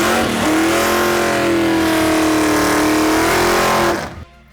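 A 440 Studebaker Gasser engine revs hard and loud, rising sharply and then holding a high, sustained roar for several seconds before cutting off abruptly near the end.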